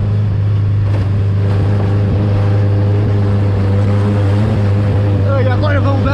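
Chevette car engine labors uphill on a dirt trail, a loud, steady low drone held close throughout, with excited voices shouting over it.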